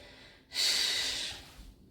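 A single strong exhale through the mouth during a vinyasa yoga pose, a close breathy rush lasting under a second, alone in a quiet room.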